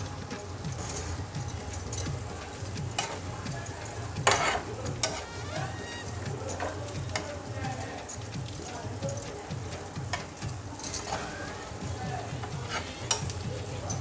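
Chopped green chillies sizzle in a hot pan with ginger-garlic paste for Koli-style dry prawns and potato: a steady close frying hiss with stirring clatter and a few sharp clinks while someone talks.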